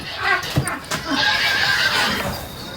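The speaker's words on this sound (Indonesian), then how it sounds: "Kok ada suara kuda?" A horse neighs in a loud, drawn-out whinny with a few hoof clops before it, heard in a spooky old house setting; people talk quietly nearby.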